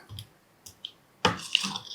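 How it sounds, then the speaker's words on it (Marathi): Water poured from a bowl into cooking dal with salt mixed in, a brief splashing gush near the end after a few small clinks and drips. "आता पुन्हा एक वाटीभर पाणी घालणार आहे"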